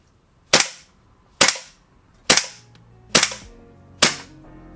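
A WE SCAR H gas blowback airsoft rifle fires five single shots, each a sharp close crack with a short decay, spaced roughly a second apart, with no talking.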